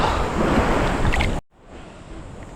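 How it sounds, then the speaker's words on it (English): Ocean surf rolls in at Thomas Beach in Bali, a broad washing roar of waves mixed with wind, loud for over a second before cutting abruptly to a faint, distant hiss. "this is one of the best oceans I've been in this area"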